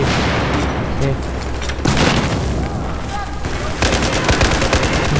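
Rapid gunfire and explosions pound through a Battlefield 4 multiplayer match, loud and close, with automatic bursts and booms running continuously while a player talks excitedly over the chaos.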